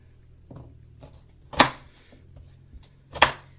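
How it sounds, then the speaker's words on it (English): Rhubarb stalks chopped on a cutting board for a strawberry rhubarb sauce, a few sharp knife strikes spaced irregularly, two of them loud and crisp, with quieter taps between and no talking. "Chop it up and throw it in my pan is what I'm going to do here."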